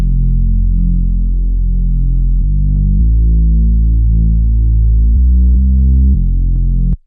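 A Reese bass patch from the Serum synth follows the root notes, a loud, thick, droning low tone that holds each note for a few seconds before stepping to the next, playing alone and cutting off at the end.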